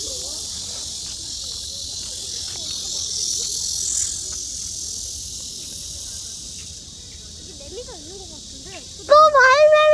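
Black cicadas call outdoors during cicada catching, a continuous high, hissing buzz that holds steadily throughout, with children's and adults' voices talking nearby and a louder burst near the end.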